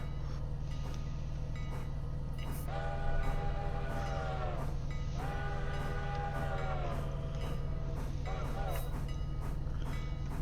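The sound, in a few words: NYC 5 chime locomotive whistle in Railroader video game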